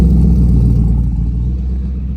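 A 1989 Chevrolet IROC with a twin-turbo 6.0 engine revving, a loud, low, throaty engine rumble that holds steady and then eases slightly toward the end.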